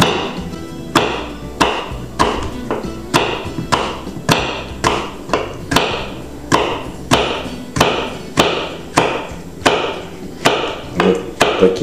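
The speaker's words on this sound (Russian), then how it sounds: "И просто режем все это мелкой соломкой." A kitchen knife chops vegetables, including pepper, into thin strips on a cutting board for a Chuvash salad, a steady run of close, sharp, evenly spaced thuds and taps with no talking.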